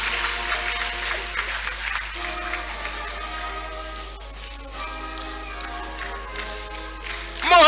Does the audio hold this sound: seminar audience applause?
yes